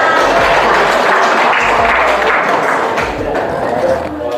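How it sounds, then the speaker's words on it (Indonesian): Loud classroom applause from students during a group presentation, continuous dense clapping with a few low thumps and shuffling underneath, holding steady throughout. "Tepuk tangan."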